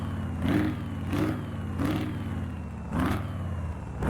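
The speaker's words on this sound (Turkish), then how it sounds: "egzoz sesi çok iyi bak bir dinlesenize" A DAF truck in a truck driving game revs through its exhaust, a loud, steady engine drone that swells in four rhythmic blips, each with a rising growl, under no speech.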